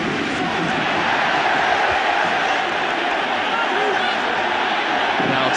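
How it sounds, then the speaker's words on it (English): A rugby crowd screams and roars continuously as Toulouse press forward against Leinster in a 2006 Heineken Cup quarter-final, a dense, sustained wall of cheering with no break, under faint commentary. "The crowd are screaming them forward"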